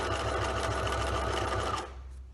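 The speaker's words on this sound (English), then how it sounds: "in one go, we're going to stitch" Sewing machine stitching the folded hem of a fabric scrunchie in one continuous run, a close, loud, fast mechanical whir that stops abruptly near the end.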